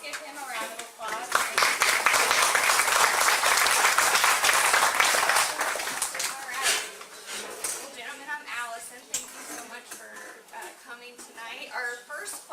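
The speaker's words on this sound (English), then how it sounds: "let's give him a round of applause." Audience applause for a state representative at a county sheriff candidates' forum in Campbellsburg, Indiana: loud, dense clapping for about six seconds, then fading into scattered claps as people begin talking.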